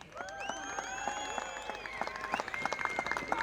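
A crowd at Teesside Autodrome during a drift competition claps and whistles, scattered applause building and growing denser over a few seconds, with shrill whistles and cheers above it.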